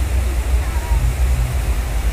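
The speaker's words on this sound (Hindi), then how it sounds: "ये यहाँ से पानी आ रहा है ना भयंकर तरीके से आ रहा है" Floodwater gushes across a road in Haldwani after heavy rain, a dense, steady rushing roar that fills the scene continuously and loudly, close to the listener.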